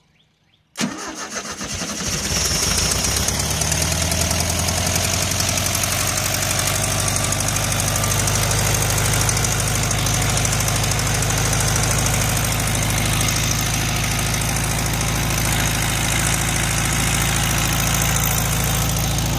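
A 1973 VW Karmann Ghia engine, started for the first time in 28 years, cranks briefly on the starter and catches. It then settles into a loud, steady, close idle that continues with no talking.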